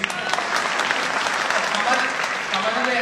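An audience at a poetry recital claps in a dense, sustained burst of applause, close and lively, with some voices mixed in.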